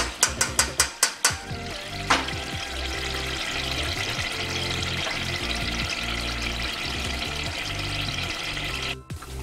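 Coconut oil cooking in a pot, stirred continuously: a steady close bubbling sizzle runs throughout, opening with a quick series of sharp metallic knocks and marked by repeated scraping stir strokes.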